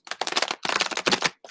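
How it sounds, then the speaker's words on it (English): A deck of cards being shuffled by hand, close and crisp, in three quick riffling bursts with brief pauses between them. "All right, Morgan, shuffling up for you."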